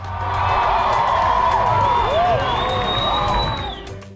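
Concert crowd at a show at the Festival del Globo in León roaring with applause, shouts and cheers, a dense sustained wall of noise with whoops rising over it.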